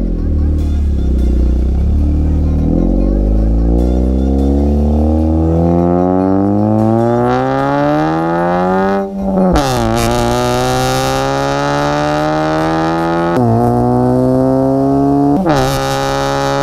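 Honda Brio Type-R with a modified valvetronic exhaust, valve open, revving hard: the engine climbs steadily in pitch for several seconds, drops off, then blips up again in short bursts, loud and close throughout.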